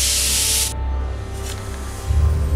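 A spray paint can hisses in the Back to the Future adventure game: one loud, bright spray lasting under a second, then quieter background rumble and faint hiss.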